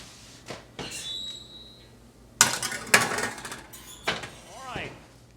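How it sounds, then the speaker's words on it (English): A baking dish of meatballs goes into an oven, with clinks and clatters of ceramic and metal, a scrape, then a louder clunk and rattle as the rack slides in, all close and brief. "Let's put these in the oven"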